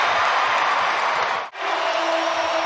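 An NBA basketball arena crowd at a Pistons versus Pacers game roars in a broad, steady wash of cheering and noise, cut off by a brief dropout partway through, then swelling again.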